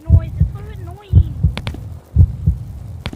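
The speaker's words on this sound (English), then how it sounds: "Yeah, the heartbeat noise does get annoying." Heartbeat sound effect in a VR horror video game about chickens: steady paired low thumps repeating close and loud, with voices and game tones over the top.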